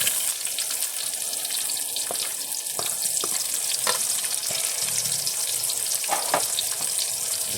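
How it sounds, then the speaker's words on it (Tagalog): Onion and garlic sauté in hot oil for a pork binagoongan, giving a steady, close hiss of frying with a few sharp clicks and scrapes of stirring. No voices are heard. "sasangkutan na tayo ng sabayin ko na po, sibuyas at bawang"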